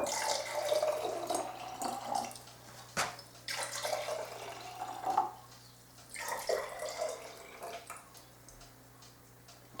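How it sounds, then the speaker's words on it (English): Kangen electrolyzed water poured into bottles of bottled water, soft splashing and trickling bursts that come and go over several seconds, fairly faint, with a couple of sharp clicks and no voices. "So let's add some Kangen water to these bottled waters."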